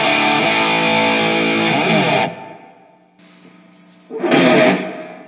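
Overdriven electric guitar through an ENO Music Classic distortion pedal, a loud strummed chord held about two seconds, a quiet gap with faint ringing, then another heavy chord burst near the end.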